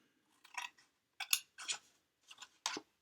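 Bigger scissors cutting tabs on a paper turkey-shaped treat holder: five crisp, separate snips at close range, each a short crunchy cut with quiet pauses between, no voices.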